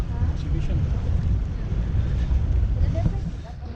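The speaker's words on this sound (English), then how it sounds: "we had a headwind and the waves are pretty choppy, so they're going slow" A boat pushes through choppy waves into a headwind on the way to an island. Continuous loud rushing and roaring from wind and water fills the whole stretch, with no break.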